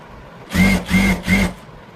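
A sewing machine runs along the edge of a blouse in three short, close whirring bursts, each lasting about a quarter second, separated by brief pauses, with no talking.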